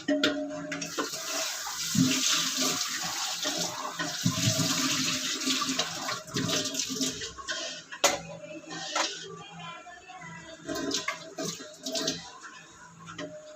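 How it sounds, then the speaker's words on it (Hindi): Water runs steadily from a tap while a baby's bottle is washed in a home kitchen, with clinks and rinsing splashes throughout; no one speaks. "अभी हम मिट्टू की बोतल धोते हैं।"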